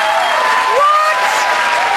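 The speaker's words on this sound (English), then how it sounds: "Stop clapping." Steady applause from an audience fills the whole moment, a dense, even wash of clapping with no pauses.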